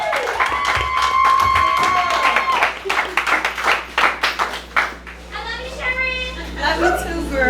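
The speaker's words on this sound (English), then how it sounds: "I want you to give a big round of applause for our closing act for the night," A small audience at the Keep Waco Loud open mic at Klassy Glass claps for the night's closing act, a short patter of applause that follows and overlaps a voice speaking.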